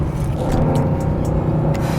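Hot rod 1973 Porsche 911 2.7 RS engine driving at modest speed, a loud steady throaty rumble heard close from the cabin, with no talk.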